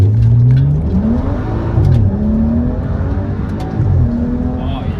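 BMW 335i F30 with N55 engine on an MHD stage 2 E30 tune accelerating hard, the engine climbing loudly through gear changes with short pauses between pulls, close and continuous.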